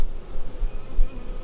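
Honey bees swarm and hum in a dense, steady buzz at an open hive in a bee yard, close and continuous throughout with no talking.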